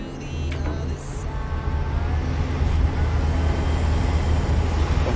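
A heavy truck engine in American Truck Simulator drones steadily inside the cab, a low continuous rumble with a brief click early on and no talk over it.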